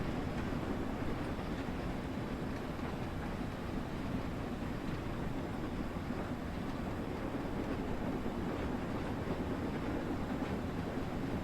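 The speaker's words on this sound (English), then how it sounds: "I feel like I'm overworking the train here and using a little bit more steam than what I'd like." A steady, low rumbling of a steam train running in Train Sim World 2, with a continuous chuffing roar, moderately quiet and unbroken.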